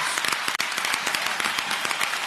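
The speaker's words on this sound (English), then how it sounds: "And the audience stands in applause." Standing convention audience applauding, a thick wash of many hands clapping with distinct individual slaps poking through, continuous and loud for a couple of seconds.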